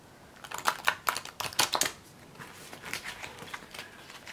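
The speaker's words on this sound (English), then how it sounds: "Let's go ahead and test a riffle shuffle anyways to see how well this riffles." Tarot cards in soft anti-glare sleeves being riffle shuffled, a quick flurry of close, crisp flicking and ticking as the two halves interleave, then a softer settling rustle.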